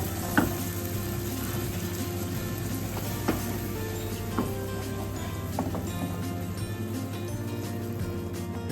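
Mushrooms and onions frying for beef stroganoff with demi-glace and beef steak, a steady loud sizzle with occasional soft stirring knocks throughout, no voice.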